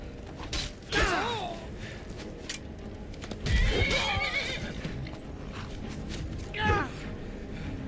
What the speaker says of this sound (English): The horse is attacking me.